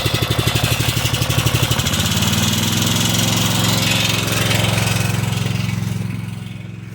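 A gold dredge engine runs loud and close, chugging unevenly at first, then settling into a steady, throttled-up drone that eases off near the end.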